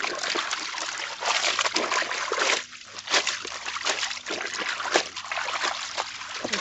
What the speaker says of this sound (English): And then just rinse. You can see how the water is clear.